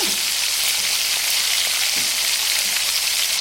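Tomatoes fry in a pan with a loud, continuous hissing sizzle that holds steady throughout, with a few faint stirring knocks beneath.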